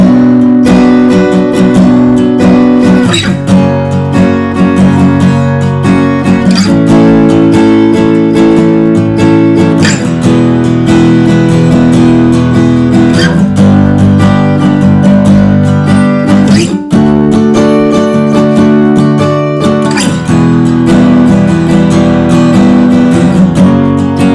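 Strummed guitar chords change every few seconds in a slow, steady progression, full and ringing with no voices.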